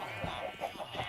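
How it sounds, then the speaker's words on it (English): A Minecraft chicken gives a few soft, quick clucks in an irregular rhythm. The clucks are faint and close, set over a quiet game background. "Got annoyed at it, and then it spawned a chicken."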